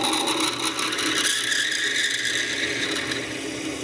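An 8mm reamer cuts metal in a slowly running lathe, with a continuous close grinding, ratcheting mechanical whir that eases slightly partway through, no talk.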